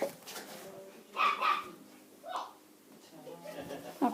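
A dog barks indoors in a few short, moderately loud bursts spaced a second or so apart, with quieter yips and whimpers between and a person talking nearby.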